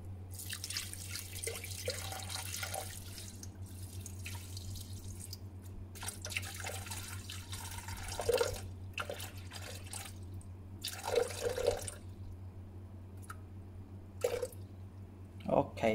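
Water, 500 grams, poured into a steaming tray set in a dish for steamed lime sea bass, giving a steady trickling and dripping under ongoing kitchen noise, with brief louder splashes near the end.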